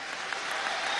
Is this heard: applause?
yes